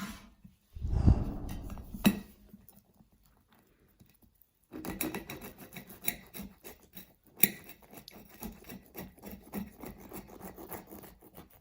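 A Wagner Rustipani smoked cheese pizza topped with onions, mozzarella and cream is cut with a rasping, scraping blade, first in one short burst, then in a longer run of sawing strokes after a pause.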